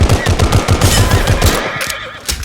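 Rapid submachine gun fire in the video game Glory Frontline, a loud, fast continuous burst of shots that stops after about a second and a half, followed by quieter game sounds.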